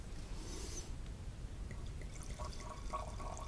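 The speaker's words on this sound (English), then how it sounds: "Let's do the pouring, Tony." Sauvignon Blanc from a screw-cap bottle is poured into a glass. The trickle is steady and quiet, gurgling faintly over background hum, with no talking.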